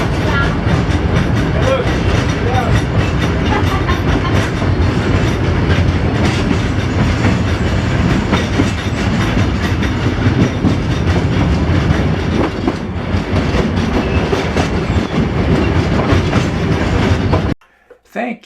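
A tourist train rolls through Cuba's Valle de los Ingenios, its carriages giving a loud, steady rumble with clickety-clack of wheels on rails throughout, cut off abruptly near the end.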